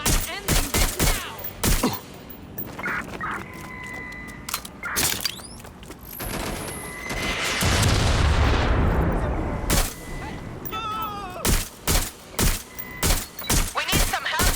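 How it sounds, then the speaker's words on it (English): Gunfire rings out in Watch Dogs Legion: loud, sharp shots in scattered bursts, with a longer sustained volley in the middle and quick strings of shots near the end. Faint voices sit in the background. "Shot fired."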